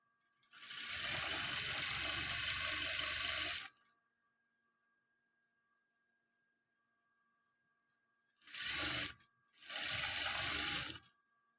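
Sewing machine stitching chudidar fabric along a cut mark, one long steady whirring run, then silence, then two shorter bursts with a brief pause between, close and loud, no talk.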